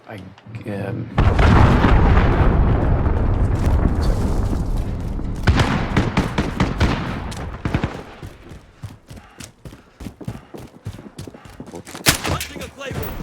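An allied cruise missile strike lands in an online shooter game, with a loud sustained blast and rumble followed by scattered shots and crackling debris that fade into quieter intermittent pops.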